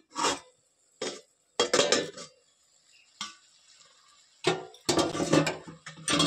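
Ash gourd curry being stirred in a pot, with separate scraping and clinking strokes of a spoon against the metal, short bursts broken by pauses, then a denser run of stirring near the end.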